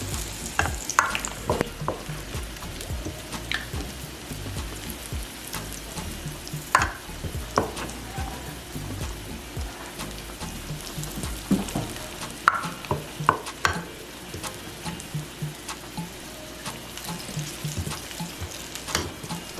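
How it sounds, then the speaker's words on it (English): Oil sizzles and crackles steadily as Nigerian bean fritters (akara) fry, with occasional stirring clatter and soft clinks; no talking. "As you are frying this, the fragrance is infusing into the air."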